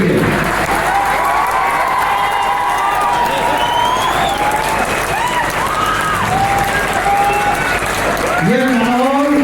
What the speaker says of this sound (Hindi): उस हिसाब से तालियां बजनी चाहिए।